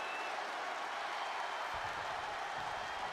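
Virtual arena crowd in the wrestling game WWE 2K20 during a SummerSlam match, a broad steady roar of cheering and applause that holds throughout and swells slightly near the end.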